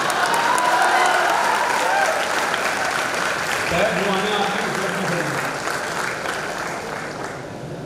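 An audience at a Gujarati felicitation ceremony claps in a steady, broad wash of applause that fills the clip and fades slightly toward the end, while someone speaks over it partway through.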